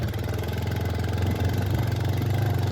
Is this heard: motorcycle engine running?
yes